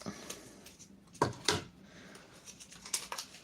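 Scissors snip through a plastic lid on a pot holding a pelargonium houseplant: a few sharp, close cuts spaced apart, with quiet handling noise between them.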